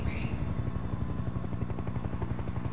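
Helicopter landing in the video game Sniper Ghost Warrior 2, a close, loud rotor with rapid regular thudding chop over a constant engine drone, no speech.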